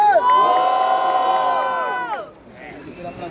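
Rap battle audience cheering loudly in a sustained collective roar with shrill whistles, dropping off suddenly into a lower murmur of voices and scattered shouts.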